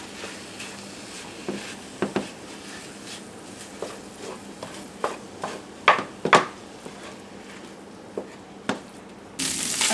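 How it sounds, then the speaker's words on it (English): Sausage fries in a pan over medium-high heat with a soft, scattered crackle, sharp irregular pops and spits rising from a quiet sizzle, ending in a louder, steadier hiss. "we're going to begin with cooking our sausage in a medium-high heat pan"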